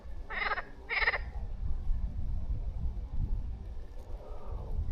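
Two quick raspy croaks from a single frog near a lakeside fishing spot in Çatalca, close and fairly loud, followed by several seconds of quiet outdoor ambience.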